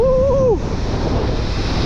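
Storm waves on the Black Sea coast of Crimea wash in a broad, steady roar of surf under wind buffeting the microphone, with a brief whistling tone at the start before the churning rush continues alone.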